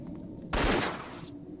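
A short loud burst of rapid gunfire in Counter-Strike, dense and close, lasting under a second before cutting off to quiet background.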